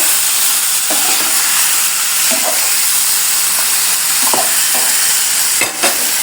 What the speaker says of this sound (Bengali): মাংসগুলো দিয়ে এখন আমি নাড়াচাড়া করবো।